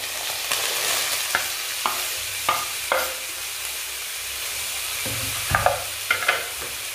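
Onions frying in oil, a soft continuous sizzle with occasional stirring scrapes and clinks, close by and moderately quiet, no talking.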